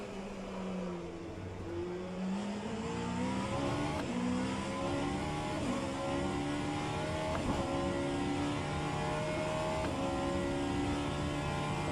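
Vanwall Hypercar engine droning steadily at Sebring in rFactor 2, harmonics rising and falling through gear changes as it accelerates and lifts, loud and continuous for the whole stretch with no talk.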